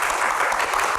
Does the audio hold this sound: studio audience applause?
yes